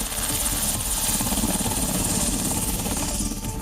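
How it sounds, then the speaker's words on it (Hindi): A police helicopter wobbling in the air over a river before it crashes, its rotor beating in a steady, loud, continuous thrum with engine whine throughout. "देखिए कैसे हेलीकॉप्टर हवा में पतंग की तरह डोल रहा है।"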